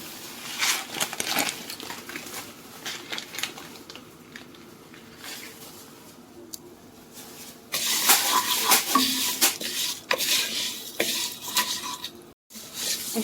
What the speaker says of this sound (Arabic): هبدأ كده انزل بالشعرية تحمر معايا